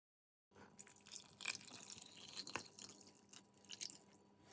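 Marinade for chicken adobo pours into a pot. The liquid splashes and drips faintly and steadily for several seconds, with no talk over it.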